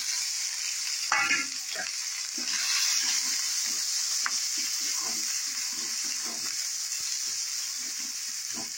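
Onion, chana dal and curry leaves sautéing in hot oil, a steady bright sizzle with scattered stirring clatters and scrapes of the spoon against the pan, close and fairly loud.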